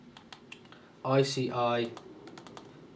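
Quick, light keystrokes on a computer keyboard as a command is entered, scattered clicks that run on either side of a short burst of a person speaking in the middle.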